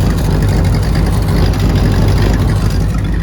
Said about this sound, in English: just a giant split in the exhaust, so I'm going to weld that up